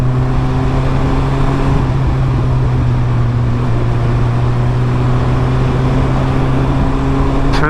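Steady engine drone from a 2008 Suzuki Hayabusa motorcycle cruising in second gear on a test ride, loud and continuous with a constant pitch and wind rush.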